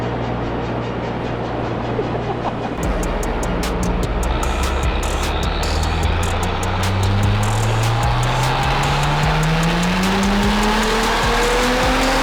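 An Audi with the EA839 2.9T/3.0T V6 on stock throttle pulls hard from a steady idle, engine note climbing continuously under full acceleration, loud and close with no talking.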